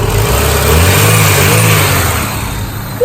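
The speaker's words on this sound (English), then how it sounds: "Twin cam motor sounds good. Let's up the speed a little bit." The B16 twin cam engine of a 1994 Honda Civic hatchback revs up close and loud, its engine note rising and swelling steadily over a few seconds.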